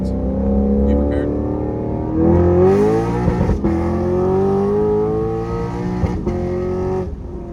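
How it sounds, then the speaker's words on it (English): A Lexus RC F V8 engine revving hard against the rev limiter, rising harmonic pitch that climbs, holds and bounces with stuttering cuts, loud and close, with a few brief breaks between revs. "I'm gonna bang off the limiter a little bit just because it sounds so crazy"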